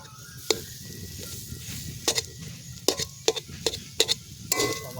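Flattened rice (chire) tossed into a hot pan with potato filling, a low steady sizzle broken by several sharp scraping stir strokes, close and fairly quiet, with no talking.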